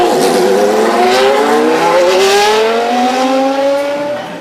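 A Formula 1 engine at Monza screams loudly and close by as it revs above 16,000 RPM, rising through gears with a climbing whine before fading slightly at the end.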